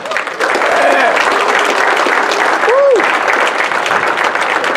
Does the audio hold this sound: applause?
yes